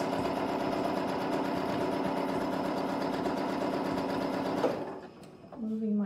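Quilting sewing machine stitching on a quilt piece, a close, steady motor hum and rapid needle chatter running for several seconds before stopping abruptly, followed by brief handling noise.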